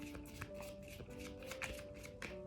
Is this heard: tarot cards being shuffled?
yes